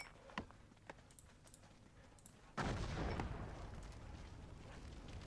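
Gunfire in the Napoleonic-era strategy game Cossacks 2 during a march on Brussels. A few faint distant pops give way to a sudden heavy volley that rolls on and slowly fades.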